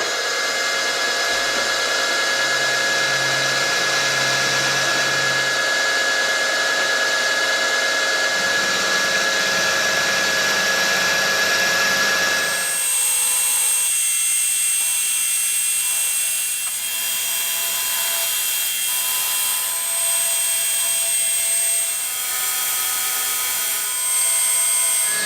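A machine tool in a workshop, used to machine a part for a Simplex steam engine, runs with a loud, steady whine and hum; the tone shifts abruptly about halfway through and then holds steady.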